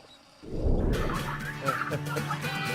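A flock of domesticated turkeys on a farm that raises several thousand birds a year gobbles in a dense, overlapping chorus, loud and close, breaking out suddenly after a brief quiet start and continuing throughout.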